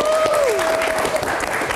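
Brief burst of audience clapping in a live Indonesian talk-show studio, loud and close, with voices talking over it.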